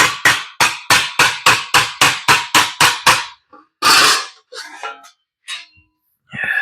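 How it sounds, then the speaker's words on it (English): Metal car trim on a 1941 Ford being hammered over two welded 1-inch round rods: about ten sharp, evenly spaced ringing blows, close and loud, then a pause and a few scattered knocks. "start hammering it."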